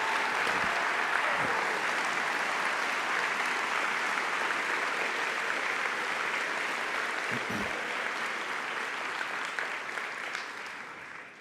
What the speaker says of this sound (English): So if you do me a favor and we can give them an applause to.